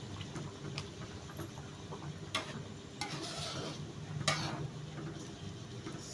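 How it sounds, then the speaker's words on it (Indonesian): Semur tahu, a tofu stew with quail eggs, being stirred in a pot after boiling: faint soft scrapes and light clicks of a utensil over a low bubbling simmer, quiet and close, with no talk. "Saya aduk terus."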